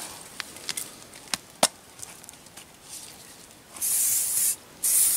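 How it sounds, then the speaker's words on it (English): Short spritzes of a spray bottle of eucalyptus oil, a few quick hisses at first, then two longer bursts of spraying close by. "Give it a douse of eucalyptus oil to try and get rid of any of our smells"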